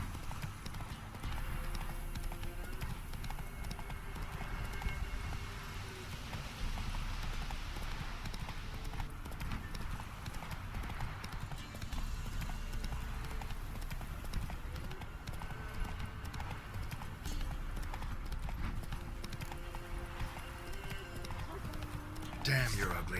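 In The Witcher 3, the horse Roach gallops with a rapid, steady clip-clop of hooves. The hoofbeats stay fairly faint and run under continuous talking throughout.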